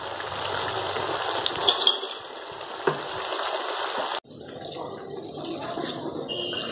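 Potato-based fasting medu vada deep frying in oil over a high flame, a dense bubbling sizzle that drops abruptly partway, then resumes more quietly.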